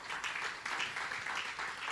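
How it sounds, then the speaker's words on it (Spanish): A church congregation claps for the Lord during a Spanish-language sermon on clay vessels, a soft, steady burst of applause heard faintly throughout. "Dale un fuerte aplauso al Señor por eso."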